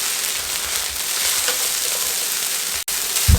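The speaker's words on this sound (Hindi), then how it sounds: "इसको 1 से 2 मिनट मजीद हाई फ्लेम पे इस तरीके से लपेट लेंगे और पका लेंगे" Veg fried rice being tossed and stir-fried in a pan over high flame, a steady close sizzling hiss throughout with a brief drop near the end and a scrape or clank at the close.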